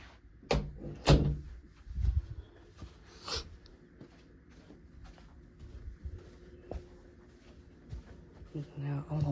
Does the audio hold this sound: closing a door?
yes